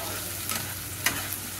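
Ginger, onion and garlic paste fries in a pan with a steady sizzle, broken by a couple of quick scraping stirs of a spatula, close and clear, with no voices.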